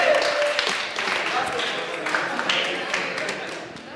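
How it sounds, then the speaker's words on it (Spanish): Studio audience applause after a correct quiz answer at a church family event, a steady burst of clapping that fills the whole moment with cheers over it. "Un aplauso para ellos."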